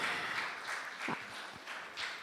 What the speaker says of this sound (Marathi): त्यांच्यासाठी सुद्धा जोरदार टाळ्या आवर्जून त्यांच्यासाठी